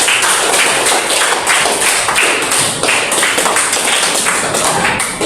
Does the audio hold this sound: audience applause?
yes